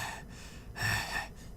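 A voice imitates a stranger's heavy breathing, giving a couple of loud, rough breaths with short pauses between them.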